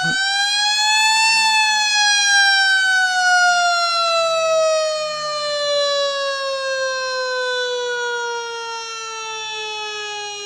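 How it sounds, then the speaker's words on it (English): A wailing siren in a video game rises briefly then slides slowly downward in a steady, loud, continuous tone lasting the whole stretch, with no voices over it. "Flagship on flagship crime here on the network means we bust out the sirens."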